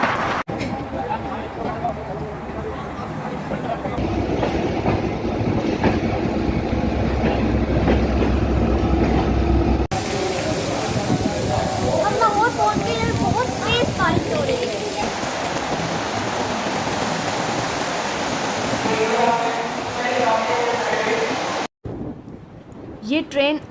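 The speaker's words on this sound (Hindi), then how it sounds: "ये ट्रेन आती है और आकर चली जाती है।" A passenger train running on rails on a Karachi–Lahore journey, heard from aboard as a steady loud rumble with rattling and clatter that continues for most of the stretch, then cuts off abruptly near the end.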